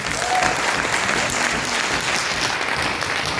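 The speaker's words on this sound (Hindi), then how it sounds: "जबरदस्त सर के लिए जोरदार तालियां।" Loud, dense audience applause at a direct-selling business seminar, a continuous roar of clapping for the speaker filling the whole moment without any talk.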